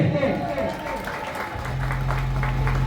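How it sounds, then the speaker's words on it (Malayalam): A crowd claps for a penalty kick at a village football event in Othara, applause mixing with voices and a steady low hum that sets in partway through. "എല്ലാവരും കൈയടിച്ചേ"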